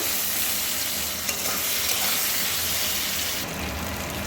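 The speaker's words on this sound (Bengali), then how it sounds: "একটা ছোট সাইজের টমেটো একটু ভালো করে তেলের মধ্যে কষিয়ে নেব" A small tomato frying in oil in a pan, a steady loud sizzle and hiss with some stirring, heard alone without talk.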